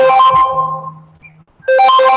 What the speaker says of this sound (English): Stupid phone.